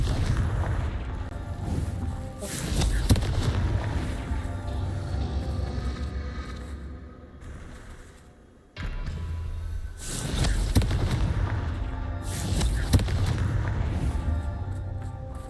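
Fiery blasts of the Confringo spell in Hogwarts Legacy, heavy booming explosions going off repeatedly over a dense rumbling background, with a short lull before another round of bursts.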